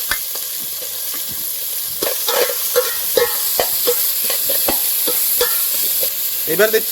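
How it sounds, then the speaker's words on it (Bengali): Raw onions sizzle steadily in hot ghee in a pot, with repeated scraping stirs at close range and a brief voice speaking near the end. "ডেকসি গরম হয়ে গেছে এর মধ্যে দিয়ে দিচ্ছি প্রথমে ঘি এবার দিচ্ছি কাঁচা পেঁয়াজ"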